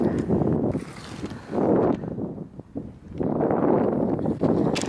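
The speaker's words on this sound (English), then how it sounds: "I'm crouching down here because it's really windy and hopefully you can hear me." Strong wind on a Welsh mountainside, Cadair Idris, on New Year's Eve: loud, continuous roaring gusts that buffet the microphone, surging and easing in waves with no talk.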